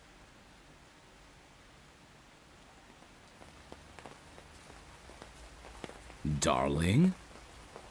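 Rain falls as a soft, steady hiss in the background throughout. Near the end, a voice speaks briefly over it.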